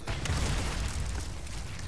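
A red barrel exploding after being shot in the video game Resident Evil 4 Remake, a loud broad boom that fades into a rumbling tail, with no speech.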